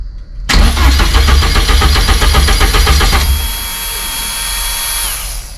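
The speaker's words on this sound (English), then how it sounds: "crank the car over, make sure that the fuel pump turns on and turns off as it should do," Ford Fiesta Mk1 with a Zetec engine conversion cranking on the starter, a loud rapid rhythmic churn for about three seconds before settling to a lower steady hum, close up.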